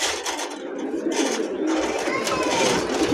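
Pair of Lakkha pigeons cooing at a pigeon seller's stall, soft repeated throaty coos over a busy, noisy background with some chatter.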